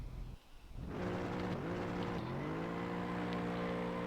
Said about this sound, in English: Big burnout down the pits just to get the tyres up to speed.